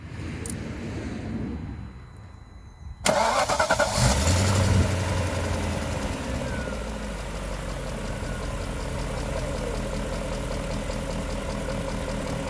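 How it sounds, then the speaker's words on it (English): A cold BMW V8 engine starts up abruptly, then settles into a steady idle with a constant, noisy whirring drone from its viscous cooling fan clutch, fairly loud and close. "the engine is idling, the engine is cold, fan is spinning"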